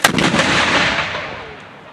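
A cannon fires at a night battle reenactment at Fort Macon, one loud sharp boom with a long rumbling echo that fades over two seconds.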